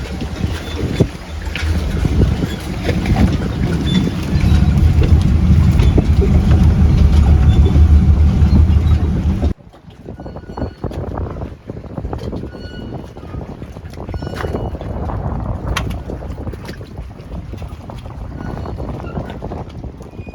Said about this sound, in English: It's a little bit windy. It's very windy.